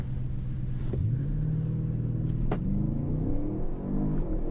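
An Audi RS5 engine revs hard during a launch start, a rising, droning rumble that swells and climbs in pitch through gear changes, heard from close by with no talk over it.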